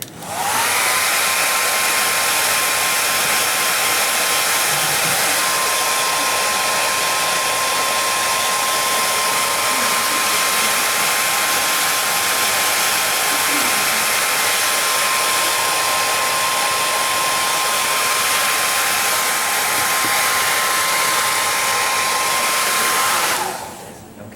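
A hair dryer blows steadily on wet watercolor paint to dry it, a loud, even whine that runs unbroken for about 24 seconds with no talking.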